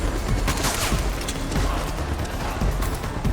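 Gunfire in the video game Metal Gear Solid 4: Guns of the Patriots, a dense, continuous fusillade of overlapping shots and rumbling blasts, loud and steady throughout.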